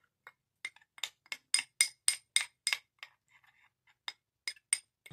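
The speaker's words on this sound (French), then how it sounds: "Et on va mélanger pour notre masque." A spoon clinks repeatedly against a bowl while stirring an aloe vera gel face mask, a quick series of bright, close taps and scrapes with short pauses between bursts.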